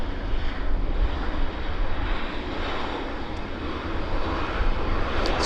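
A WestJet airliner at Vancouver Airport, its engine roar a broad, steady rumble with wind buffeting the microphone, continuous and fairly loud throughout.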